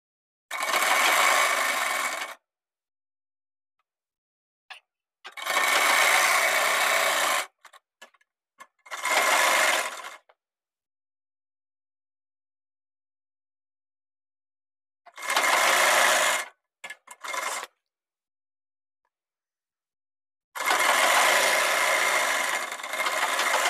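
Sewing machine stitching the folded hem of a gents' pant, running in five separate loud bursts of a few seconds each, with short pauses and a couple of brief taps in between.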